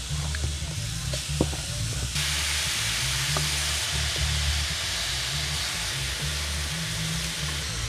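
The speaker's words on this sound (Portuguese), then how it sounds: "Colocar a carne agora para dourar." Pork rib meat sizzles steadily as it browns in a hot pan, a continuous close frying hiss with a few soft stirring clicks and no talking.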